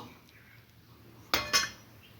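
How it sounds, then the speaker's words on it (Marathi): Dishes and utensils clink twice in quick succession while lunch of green pea curry is served, bright sharp chinks close by after a quiet room hush. "चला आता जेवायला वाढून घेत आहे मी"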